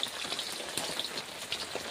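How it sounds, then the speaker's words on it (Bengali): Steady rain falls outdoors, pattering on surfaces with scattered sharper drops, a continuous close hiss with no voices. "বৃষ্টি পড়ছে এদিকে"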